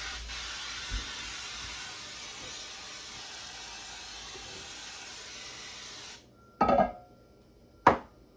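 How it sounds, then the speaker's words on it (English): A steady aerosol hiss of cooking spray onto a pan sprays continuously for about six seconds, then stops; two short clattering knocks follow, close by. "We're going to spray the pan."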